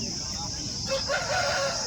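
A rooster crows at a distance at a country-chicken market over a constant high-pitched background hum, the call rising in the second half.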